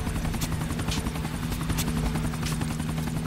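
Helicopter in the video game GTA IV, a steady whirring rotor drone with a low engine hum throughout, loud and continuous with no talk.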